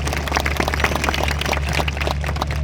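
Dense, steady applause from an audience at an AWPL business talk in Haldwani, many hands clapping together in a continuous rapid patter for the whole stretch, fairly loud and close with no voices on top.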